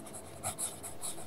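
A fountain pen scratches across yellow Rhodia paper with Slytherin green ink, giving a few short, faint, close strokes in quick succession.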